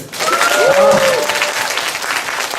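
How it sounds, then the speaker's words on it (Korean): Brief round of applause from a church congregation for the sound crew, clapping swelling then easing, with a short vocal note heard over it. "제가 우리 음향 맡으신 두 분 좀 박수 한번 주세요."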